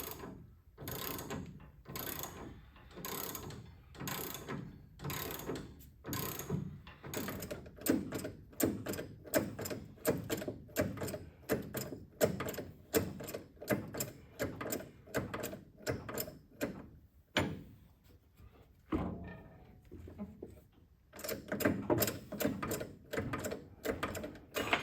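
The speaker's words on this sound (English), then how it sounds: "we just need to bolt the leaf spring back up to the axle." Rhythmic ratcheting as a wrench tightens bolts fastening a Jeep leaf spring to its axle, steady repeated clicks in short bursts with a brief pause, close and fairly quiet.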